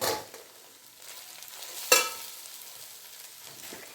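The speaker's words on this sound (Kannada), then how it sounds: "ಈಗ ನಾವು ಈರುಳ್ಳಿ ಜೊತೆ ಚೆನ್ನಾಗಿ ಬೆರೆಯೋ ರೀತಿ ಇದನ್ನು ಮಿಕ್ಸ್ ಮಾಡ್ಕೊಂಬಿಡೋಣ" Poha with onions is stirred in a pan, giving soft scraping and a faint sizzle with one sharper clink of the utensil, close and fairly quiet, no voices.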